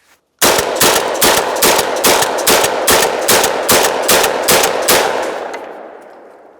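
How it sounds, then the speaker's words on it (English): A shotgun fitted with a Carlson extended magazine fires about a dozen rapid shots in a steady burst, each blast loud and close, before the last report fades out. "Count along with me and make sure they all fire."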